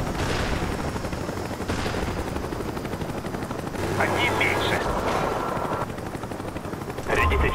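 Gunfire and helicopter rotor noise from a Call of Duty Black Ops hardcore search and destroy match, with a Cobra attack helicopter in play, forming a dense, continuous wash of shots and engine roar under game announcer voice lines.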